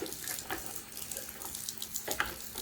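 Objects dunked into a bucket of bleach water with a running tap nearby, giving a steady wash of splashing and trickling water with a few brief sloshes near the end.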